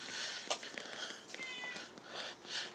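A house cat meows a few times at close range in a quiet indoor room while someone moves around nearby.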